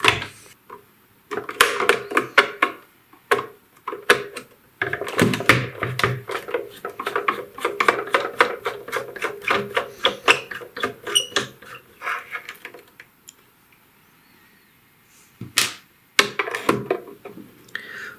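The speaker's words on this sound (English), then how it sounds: "let's just remove some screws and see if we can get this back off" Screws come out of an old Magnavox AM/FM cassette boombox case, with close, irregular bursts of small clicks, squeaks and plastic rattles separated by brief pauses.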